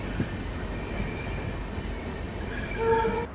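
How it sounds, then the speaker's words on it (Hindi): A narrow-gauge train at Junagadh junction station, Gujarat, rumbles quietly and steadily, with a faint tonal squeal or distant horn-like note rising briefly near the end. "ये जो छोटी लाइन की ट्रेन आपको दिख रही है ये चलती है यहाँ से"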